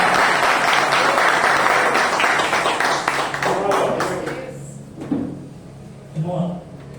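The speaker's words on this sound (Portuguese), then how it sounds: "aplauda o Senhor." Church congregation applauding during a Thursday worship service, a dense wash of clapping that fades after a few seconds, leaving scattered voices and a brief spoken exclamation.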